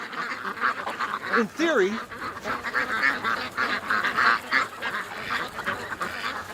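Muscovy cross ducks honk and quack repeatedly nearby, the calls overlapping in a busy flock while someone speaks over them.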